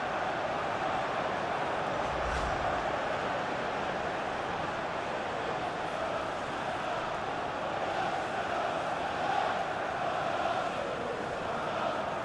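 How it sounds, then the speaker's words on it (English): Football stadium crowd at a Premier League match between Arsenal and Manchester City applauding a winger as he is substituted off, a steady broad wash of clapping and crowd noise holding level throughout with no voices standing out. "the crowd applauding as he's been taken off the winger"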